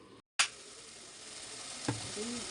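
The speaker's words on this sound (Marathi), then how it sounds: "एक मिनटापर्यंत आपण मसाले चांगले परतून घेऊया तेलामध्ये" Spices sizzling in hot oil for a prawn rice dish: a steady, close frying hiss after a brief silence, with a sharp clink near the start and a spoon scraping midway.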